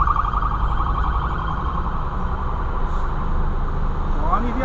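A police car siren wails in the distance over steady road and engine rumble on the Marginal Tietê highway in São Paulo, its rising and falling tone persisting throughout.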